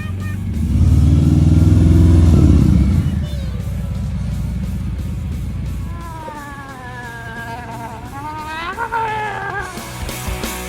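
A 2024 Harley-Davidson Low Rider ST motorcycle with the 117 engine rumbles loud and deep at first, then settles into a lower idle with rising and falling revs near the end.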